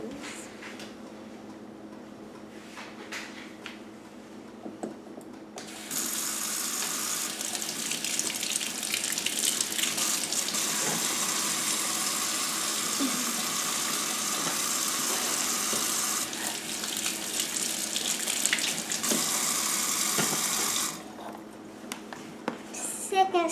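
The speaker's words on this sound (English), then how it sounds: "First step is to wash your hands" Tap water runs steadily into a sink while hands are washed before cooking spaghetti, a broad rushing flow lasting about fifteen seconds with quieter room sounds and faint talk before and after.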